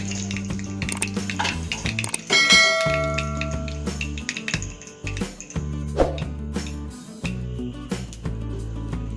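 Mustard seeds splutter in hot coconut oil for a shallot vinegar chutney, with irregular sharp pops and crackles over a steady sizzle, close and moderately loud, with a few clinks of a metal pan or spoon.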